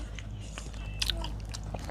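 Teeth bite into the crisp flesh of a large fresh jackfruit picked from the tree, giving close, sharp crunches followed by a few wet chewing crackles over a low background hum.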